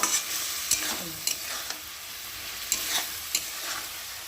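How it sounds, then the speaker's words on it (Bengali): Mustard paste frying in oil sizzles steadily at close range while a spatula scrapes and knocks the pan in irregular sharp clicks every second or so, with no voices. "একটুখানি ভালো করে কষিয়ে নেবো তেলের মধ্যে"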